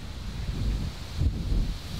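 Low, gusty wind on a golf course rumbles and buffets the microphone, swelling briefly near the middle, with no voices.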